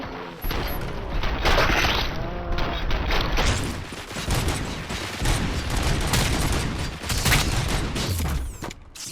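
Dense, sustained video game gunfire, with many rapid overlapping shots and mechanical clatter forming a loud, continuous fusillade from start to finish.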